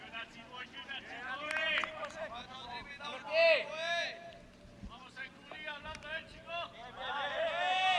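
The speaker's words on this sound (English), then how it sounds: "Lots of noise out there from the Spanish boys." Players shout and call out across a cricket field during a T10 match at Cartama Oval in Spain, with several energetic voices overlapping at a distance while a commentator talks over them.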